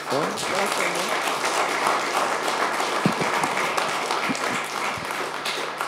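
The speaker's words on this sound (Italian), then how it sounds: "Un applauso." An audience applauds guest chemist Cristina Puzzarini at the end of a public talk: dense, continuous clapping from a crowded hall, steady and moderately loud for around six seconds, with a faint voice briefly underneath.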